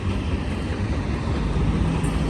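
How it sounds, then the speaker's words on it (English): A train rumbles past at Blue Cut, a steady loud roar of rolling wheels and rail noise filling the whole span without letup, with no voices over it. "Well, there is another train coming."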